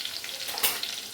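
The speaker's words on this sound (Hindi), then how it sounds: "इसे थोड़ा सा हम फ्राई कर लेते हैं" Curry leaves, ginger, garlic and cumin fry in hot oil with a steady close hiss, and one brief crackling flare rises from the sizzle partway through.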